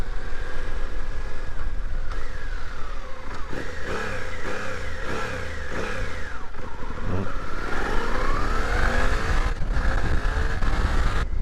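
A Suzuki V-Strom 800 DE motorcycle accelerates hard through its gears toward fourth or fifth, its loud engine note climbing and dropping at each shift, with steady wind and road roar and no speech.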